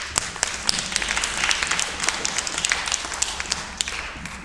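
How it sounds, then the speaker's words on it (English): An audience applauds at an Oxford for Europe political meeting: a dense, steady patter of many hands clapping at moderate volume, sustained throughout with no talking. "can we just have a quick round of applause for the organiser?"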